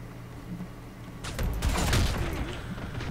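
Gunfire from the sci-fi shooter A.I Space Corps, a burst of several shots in the second half over low game ambience, fairly loud and close, with no one speaking.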